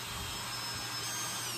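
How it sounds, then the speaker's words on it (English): A power drill drives screws into a wooden acoustic guitar mold, a brief, fairly quiet continuous whirring buzz that holds steady throughout. "I'm simply going to put the one empty half connected back and reattach it with the screws."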